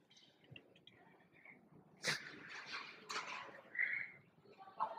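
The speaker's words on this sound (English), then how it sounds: "Security guard out front with a dog checking for bombs and such." A security guard's bomb-sniffing dog at a waterfront hotel entrance in Cebu City gives faint whimpers and soft yips amid quiet outdoor ambience, with a few louder bursts of nearby noise.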